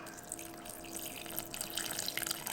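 Water streams steadily from a tap into methi bhaji batter of fenugreek leaves, a close, continuous splashing trickle with faint dripping, no voices heard.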